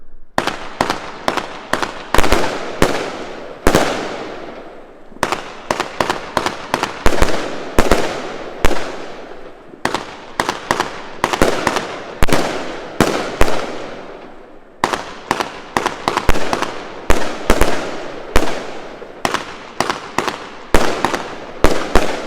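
A Bonfire Night display of fireworks from the German brand Volt fires a rapid, continuous barrage of sharp cracking bursts in repeated volleys with short pauses, loud and close.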